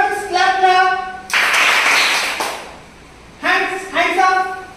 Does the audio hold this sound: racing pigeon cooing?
no